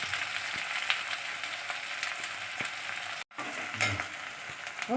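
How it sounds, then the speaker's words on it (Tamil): Curry leaves crackle and spatter steadily in hot oil for a Tamil eggplant kuzhambu, a dense close sizzle broken by one brief silent gap, with no voices. "கருவேப்பிலை இப்போ போடலாம் எனக்கு படப்படம் வெடிக்குது"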